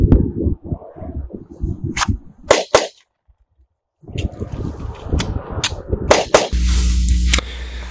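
Handgun shots ring out during a holster draw drill, sharp cracks in an irregular string, a brief quiet gap, then more rapid shots, loud and close with no talk.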